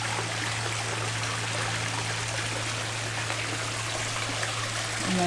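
Water splashes and trickles steadily from a backyard pond waterfall, a constant close rushing wash with a low hum underneath.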